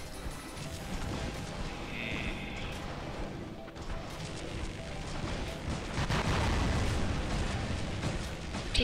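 Video game gunfire and explosions strike the player, a dense barrage of booming blasts and crashes that builds louder toward the end, with some speech mixed in.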